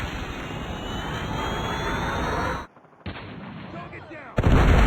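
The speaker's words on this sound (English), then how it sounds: "Predator missile inbound." A Call of Duty predator missile strike: a loud roaring rush of incoming fire cuts to a brief silence, then a heavy blast erupts at the end, amid game gunfire and aircraft noise.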